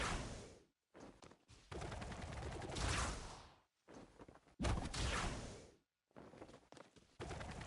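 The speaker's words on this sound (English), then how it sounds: "I hear someone shooting something." Gunfire in a video game, bursts of rapid shots and whooshing blasts coming in several loud chunks separated by brief silences, with no talking over them.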